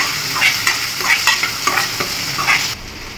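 Two large onions sauté with ginger garlic paste in a hot pan, sizzling steadily while a spoon scrapes and stirs in repeated strokes, close and fairly loud with no talking.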